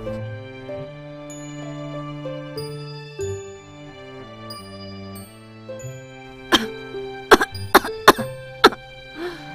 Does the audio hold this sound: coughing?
yes